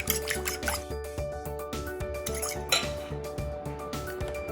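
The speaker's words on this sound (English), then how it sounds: "Then we're going to also add some water and mix this up." Water is poured into a bowl of Simple Mills artisan bread mix with eggs and stirred, producing quick, repeated clinks of a utensil against the bowl at close range.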